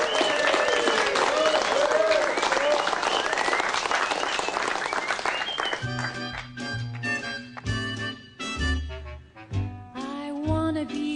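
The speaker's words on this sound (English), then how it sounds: "Give a great big round of applause for Marilyn Monroe." A club audience gives a loud round of applause with cheering for a Marilyn Monroe look-alike, the clapping dense for about six seconds before music with singing takes over.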